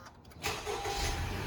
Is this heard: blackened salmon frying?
no